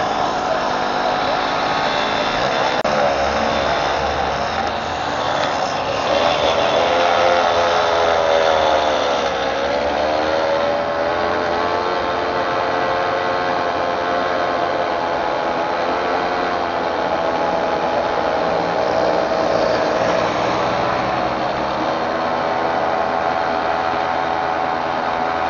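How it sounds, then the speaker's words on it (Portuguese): A Moby moped engine with a faulty carburetor revs and drones continuously for about 25 seconds, loud and close, its pitch wavering up and down as the throttle is worked. "Ó, acelerado, ó. Carburador não tá legal,"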